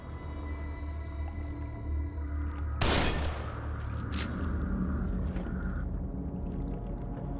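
A single sharp gunshot rings out in the survival-horror video game The Evil Within, loud and close over a steady game ambience, followed by a short decaying tail and faint background tones.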